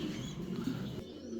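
Fancy pigeons at a pigeon farm give low, steady cooing that carries on throughout, close and fairly loud, with some brief chirps from other birds mixed in.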